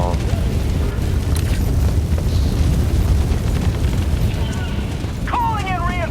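Napalm explosions in the Helldivers 2 video game form a constant, heavy rumbling roar of booms, with brief game sound effects rising near the end.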